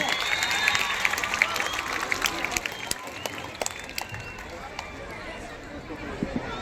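Applause from a crowd at a political event, scattered claps and sharp hand strikes over a murmuring hubbub, with voices speaking through it.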